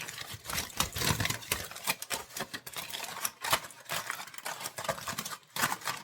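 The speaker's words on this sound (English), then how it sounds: "So here's my foil ready to go, and I'm just going to cover it up" Aluminium foil is crinkled and pressed over a baking dish, giving a close, loud, continuous crackling with rapid irregular rustles and no pauses.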